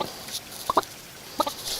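Short clucks from a video-game chicken: two quick clucks, then another pair a moment later, light and clear over a soft background.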